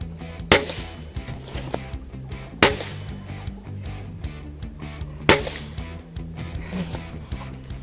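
Three sharp shots from an Air Arms TX200 HC .177 underlever spring-piston air rifle firing JSB Simplies pellets at 25 yards outdoors, evenly spaced about two to three seconds apart, each a crisp snap over quiet background.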